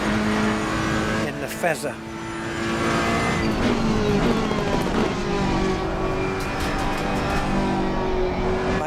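A McLaren race car's engine howls steadily while lapping Silverstone in Assetto Corsa Competizione, with rising and falling revs and brief tyre noise, and a voice speaks briefly over it.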